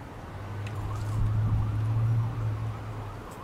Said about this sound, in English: Can hear sirens in the background.